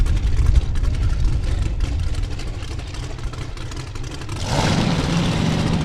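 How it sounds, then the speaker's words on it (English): A drag racing car engine fires up and runs at a Las Vegas drag strip, a loud rough rumble that surges sharply brighter near the end as it revs, with no talking heard. "Geneva's going to fire up the car"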